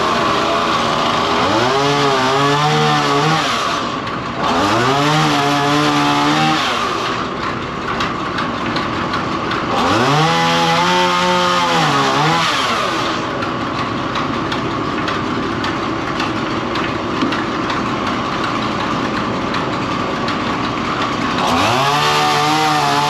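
A small chainsaw labours through a big poplar log, its engine loud and close, revving hard in repeated bursts of rising and falling pitch between steadier cutting drone.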